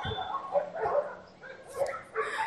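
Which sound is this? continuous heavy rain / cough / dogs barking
dogs barking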